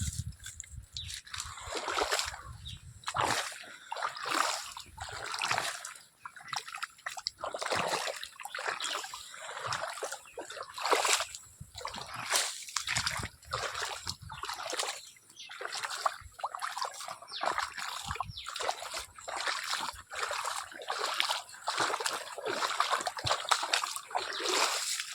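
Water from a pump runs through a field irrigation channel clogged with debris, giving a close, continuous splashing and trickling with irregular bursts and sloshes and no talking.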